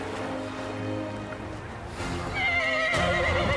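A horse on a beach gives a loud, wavering neigh near the end, following a stretch of low background noise and hoof movement.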